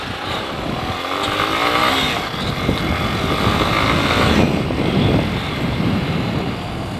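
A motorcycle rides on a road behind a car, its engine a continuous buzzing drone mixed with wind and road rumble, fairly loud throughout with a slight swell midway.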